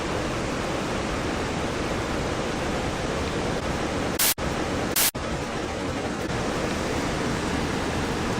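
Cohoes Falls in New York roaring as a steady, loud broadband rush of falling water, continuous and unbroken apart from two brief dropouts.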